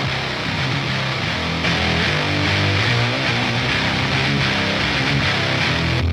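Guitar played dry with no doubler effect in a music mix, a steady dense strummed or sustained part running loud and continuous throughout with no talking.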